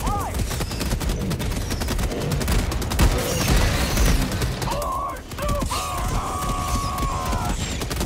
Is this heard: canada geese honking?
no